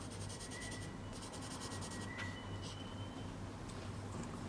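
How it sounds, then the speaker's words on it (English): A calligraphy nib pen scratches a line across paper during a Gothic blackletter lesson, a faint, steady scratching rub heard close up over a low background hum, with no speech. "we're going to just draw in another line, which is 1 nib width."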